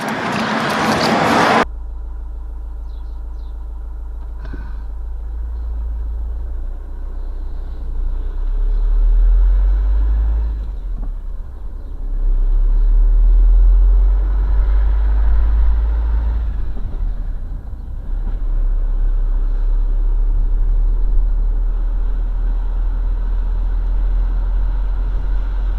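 A van drives along a road on a European trip toward Switzerland, its loud low engine rumble and road noise running continuously and swelling at times after a brief burst of noise at the start.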